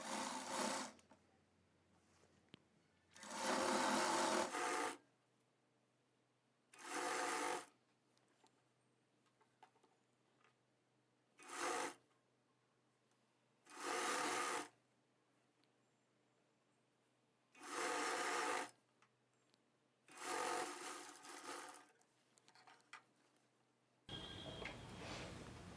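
A sewing machine stitches lining blouse parts of Benaras cloth in repeated short bursts of whirring, each a second or two long, separated by quiet pauses, close and clear with no talk.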